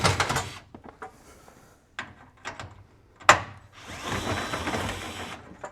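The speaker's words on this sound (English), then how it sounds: "I'm going to use a 1/4 inch nut driver. And we're going to take these trim pieces off too." A 1/4 inch nut driver backs screws out of trim pieces on a Whirlpool oven, giving short clicking and ratcheting bursts and taps separated by pauses, close and fairly quiet, with a longer scraping rasp near the end.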